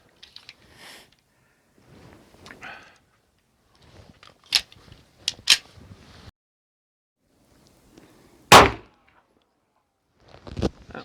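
A 9mm Luger pistol firing 90-grain bullets in load testing, with several sharp, loud reports spaced apart and one especially strong shot near the end, amid quieter handling clicks.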